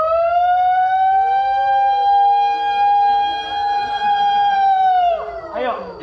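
Voices imitate a siren in one long, sustained wailing tone that holds steady for about five seconds, loud and close, then breaks off into a brief burst of noise at the end.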